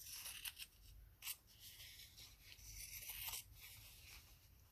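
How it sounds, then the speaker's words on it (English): Scissors trim along the edge of handmade fabric and ribbon washi tape, giving a series of soft, close snipping and rubbing cuts in quiet surroundings. "I'm just going to take my scissors and trim along the edge over here."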